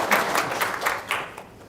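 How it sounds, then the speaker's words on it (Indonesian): A seated audience at an Indonesian business seminar breaks into short bursts of clapping, a few loose, uneven rounds that thin out toward the end. "tepuk tangan dong"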